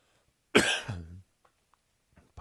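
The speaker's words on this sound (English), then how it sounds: "Pardon my cough there." A single harsh cough from someone working at a computer on book cover designs, close and loud, lasting about half a second and tailing off, with quiet room and faint small noises afterward.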